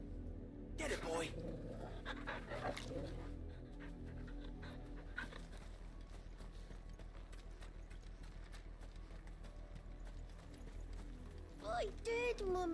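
Dog panting in the video game Final Fantasy 16, heard as quick rhythmic breaths with hoof clip-clop and game sounds; a voice speaks over the start and end.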